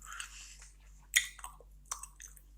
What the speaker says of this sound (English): I know a lot of people don't like gum chewing in videos